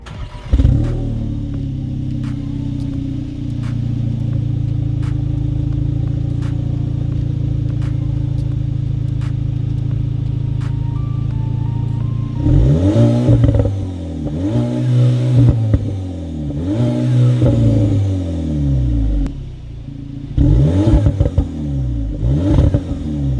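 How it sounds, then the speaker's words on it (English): A 2020 VW Polo GTI engine idles steadily, then revs hard in repeated sharp bursts that rise and fall, loud and close, with no talking. "So yeah, that's how the engine sounds."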